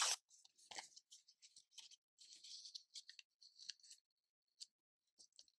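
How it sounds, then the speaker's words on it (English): Paper scraps are torn by hand in a quiet crafting session, giving a string of short crisp rips and crackles, close and fairly faint, with no talking. "Let's rip that part off."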